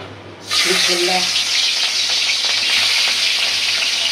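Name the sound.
rui fish frying in hot mustard oil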